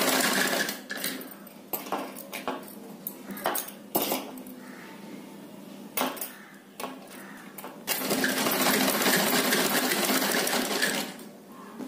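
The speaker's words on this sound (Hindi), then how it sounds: "यहाँ पे भी एक सिलाई लगा देंगे।" A sewing machine stitches fabric for a small doll dress, running in short bursts with pauses, then in a longer continuous run, close and clear.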